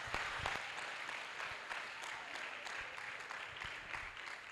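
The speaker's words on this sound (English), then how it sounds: "Let's give ourselves a round of applause." Applause from an audience at a live-streamed counseling event, dense and steady throughout with a few sharper claps standing out.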